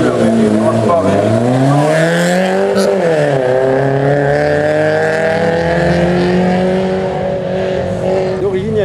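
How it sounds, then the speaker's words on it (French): An Audi Quattro race car, number 7, climbs a historic hill-climb course with its engine revving hard. The pitch rises and falls through gear changes in a loud, continuous, close roar. "C'est parti pour l'Audi Quattro avec le numéro 7."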